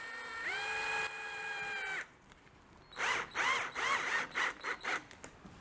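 A small power screwdriver drives little screws into a hardboard backboard: one steady high whine, then a pause, then a quick series of short pulsing bursts as the screws seat.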